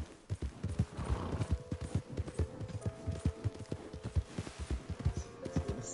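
Horse hooves in the video game Red Dead Redemption clip-clop in a steady walking rhythm, close and fairly loud, with a brief whinny-like tone mixed in and no talk over them.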